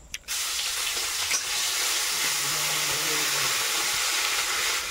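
Whole cumin seeds and ginger sizzle in hot oil in a home kitchen, a steady close frying hiss that starts abruptly and runs unbroken, with a faint stirring scrape and a brief low hum partway through.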